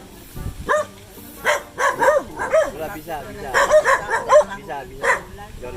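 Several dogs bark in short, repeated bursts on a mountainside home, the yaps and yelps rising near and fairly loud between and over people talking.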